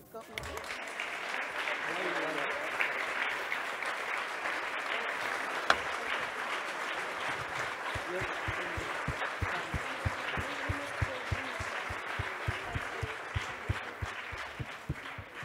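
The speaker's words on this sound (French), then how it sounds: "Et je vous demande d'applaudir Edgar Morin." A festival audience applauds Edgar Morin, sustained applause from a large crowd that swells early and then settles into steady, rhythmic clapping for the full length, with crowd murmur beneath.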